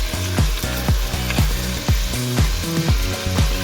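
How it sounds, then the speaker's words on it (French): Leftover pork ligament pieces fry in hot fat with a loud continuous sizzle, punctuated by a rhythmic series of sharp knocks and scrapes of stirring, close to the pan. "je vais faire frire les ligaments qui me restent"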